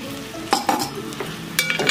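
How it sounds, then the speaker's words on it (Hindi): Ground coconut and poppy seed masala roasts and sizzles in a pan for a chicken korma, with brisk stirring strokes and spoon clinks against the metal, close up and without speech. "अब इसको भी थोड़ा भून लेती हूँ मैं"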